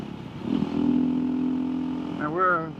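An off-road motorcycle in the hills of Pittsburg, New Hampshire, with a fuel-injected engine, droning steadily as it climbs uphill, then briefly rising in pitch. A voice is heard over it.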